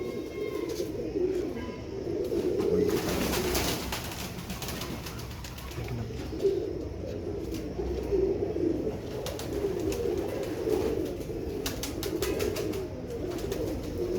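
Pigeons coo steadily in soft, low, rolling calls throughout, with a continuous background hum and occasional faint chirps.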